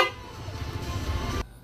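One loud, sustained dual horn blast from a Honda ADV 160 motorcycle with a bright, layered tone holds for about a second and a half, then cuts off abruptly.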